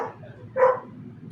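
A single sharp bark from a pet dog sounds from across a room, fairly brief, over a low steady background murmur.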